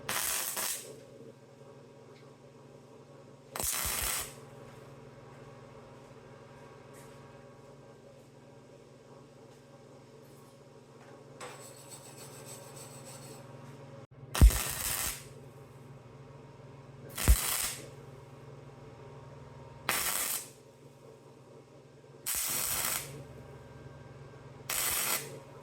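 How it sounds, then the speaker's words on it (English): Arc welding on a steel wrench body being built into a car show trophy in a workshop, heard as several short bursts of broadband crackle and hiss over a steady low hum, with quiet gaps between welds. "go ahead and weld"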